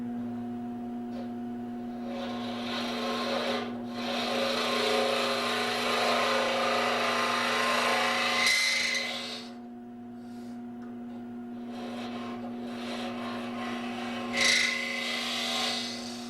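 A woodturning gouge cuts into a spinning wooden capsule box on a lathe, giving a rasping scrape in long passes over the lathe's steady motor hum, with brief pauses between cuts.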